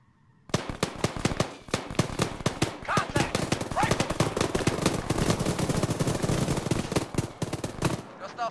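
Rapid bursts of gunfire crack from a sniper and other weapons in an Arma firefight on the Chernarus map, dense and loud for most of the stretch with repeated sharp reports, while faint voices mutter underneath.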